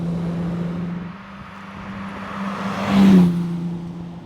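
A Canepa Porsche 914's flat-six engine hums while driving, its intake sitting right behind the cabin at ear level; a steady low drone swells into a brief louder rev before settling back.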